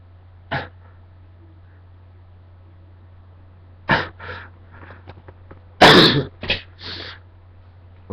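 A person coughs and clears their throat in several short, sharp bursts separated by quiet pauses, heard close against a low steady hum.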